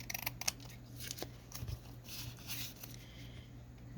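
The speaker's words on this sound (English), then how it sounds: "Definitely going to need to do some trimming on this one." Scissors trimming a paper journal tag, a few faint quick snips and paper rustles against a low background hum, quiet and close, no talking.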